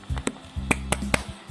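Sharp rhythmic hand claps in a short patterned sequence, used as a classroom clapping chant for Surah Al-Lahab, each clap crisp and close with a low hum between.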